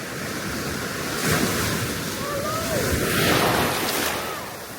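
Ocean surf on a beach in Barbados rolls in as a broad, steady wash of noise that swells and recedes, with wind rumbling across the microphone throughout.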